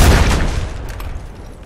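A few heavy booming shots from gunfire in a video game, loud and close at the start and then trailing off into a fading rumble.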